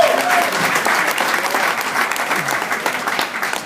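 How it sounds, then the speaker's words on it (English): A dense round of crowd applause fills a mock bar mitzvah party at a DJ trade expo in Atlantic City, loud and sustained with no break. "how about a big round of applause for my man Johnny Kelly as he takes it over"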